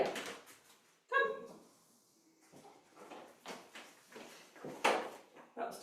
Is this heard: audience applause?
no